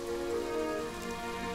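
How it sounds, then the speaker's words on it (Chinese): Heavy rain falls steadily on surfaces, a dense, even wash of drumming water with no breaks or voices, loud and close for the whole short stretch. "阵雨接连下了七日，非但没见停，"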